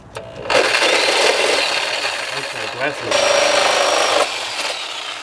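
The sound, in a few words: Sawzall cutting rusty running boards on a Chevy Astro van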